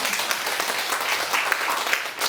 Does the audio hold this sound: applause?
yes